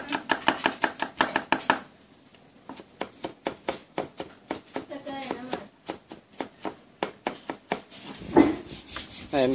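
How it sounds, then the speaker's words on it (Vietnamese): A knife chops shallots on a cutting board in a Vietnamese kitchen, fast rhythmic knocks in bursts with brief pauses, close and crisp, with a voice talking partway through. "Ở này là anh Phụng anh sắc hành tím chuẩn bị cho món cá rô phi chiên nước mắm"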